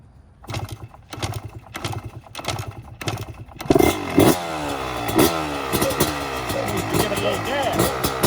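A 2020 Yamaha YZ125X two-stroke dirt bike is kicked over a few times with rhythmic thumps, then catches and settles into a loud, buzzy, crackling idle close by.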